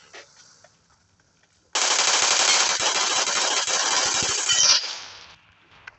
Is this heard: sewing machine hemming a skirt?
no